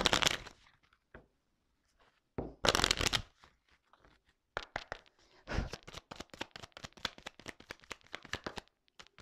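Tarot cards being shuffled and drawn by hand, with short crisp riffling bursts separated by pauses, then a quicker run of close, dry flicks and snaps.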